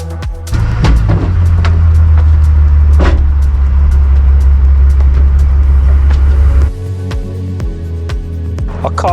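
A Bentley Continental GTC car, bought wrecked from a salvage auction and loaded onto a truck, idles loudly with a steady low engine rumble that cuts off near the end, leaving scattered clanks and thumps from the loading work.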